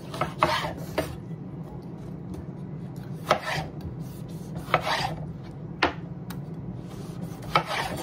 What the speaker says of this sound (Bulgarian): Домата си го нарязваме на купченца.